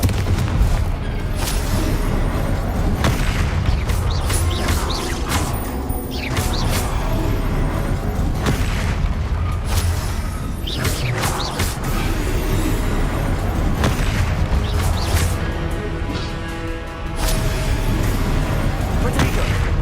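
Spell blasts and booming explosions from a Confringo fire curse in the game Hogwarts Legacy, loud and dense, with repeated impacts over a continuous roar of combat effects for the whole stretch, and voices mixed in.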